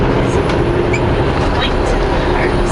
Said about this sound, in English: train going over top